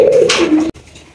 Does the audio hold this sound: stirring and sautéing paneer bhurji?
no